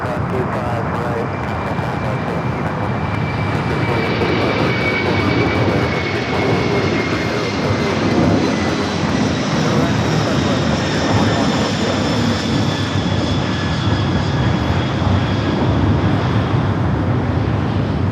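Jet airliner rolling down runway 25 left at Los Angeles International Airport at night, a loud continuous engine roar with whining tones that holds steady throughout, with voices faintly audible beneath.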